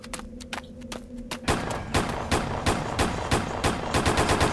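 Rapid automatic gunfire from a weapon in the Lone Wolf 3 video game, a dense, loud burst of shots after a few sparse opening rounds, continuing steadily with no talk.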